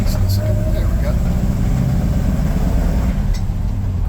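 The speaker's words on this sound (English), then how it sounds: "Great sounding little engine," A 1959 GMC shortbed pickup truck drives along at a steady pace, its small engine giving a continuous, moderate hum close up throughout.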